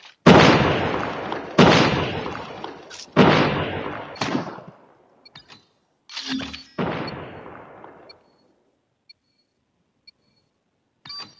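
A Call of Duty Mobile match erupts with several loud, sharp blasts, each decaying over about a second, followed by scattered smaller pops, a muffled explosion and faint game beeps as the action thins out.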